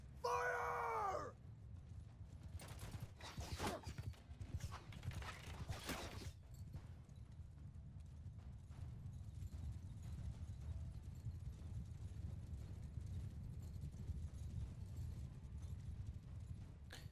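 Horses gallop in a large medieval battle in the Bannerlord video game, with a steady thud of hooves under battle clamor, shouts and creaking mechanisms, starting with a brief high cry.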